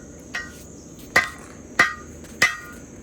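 A blacksmith strikes hot steel with a worn, roughly five-pound hammer while forging a war hammer. Four sharp, ringing blows land at an even pace, close and loud, over faint background hiss.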